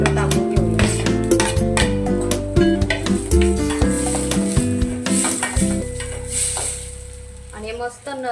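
Ginger garlic paste hitting browned onions in a hot pan, with a steady sizzle and fry under clinking utensil stirring against the pan, close and fairly loud.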